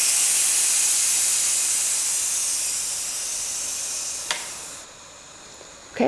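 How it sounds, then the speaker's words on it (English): Steam rushes from the pressure release valve of a Pioneer Woman electric pressure cooker in a loud, steady hiss that slowly tapers, then cuts off abruptly near the end with a small pop. "We'll press cancel and go ahead and release the pressure."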